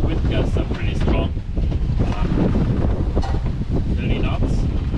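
Strong 30-knot gusts buffet a sailboat mid-ocean on a North Atlantic crossing, a loud continuous roaring rush against the microphone with brief dips, while someone speaks intermittently beneath it.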